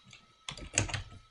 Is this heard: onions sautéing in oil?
no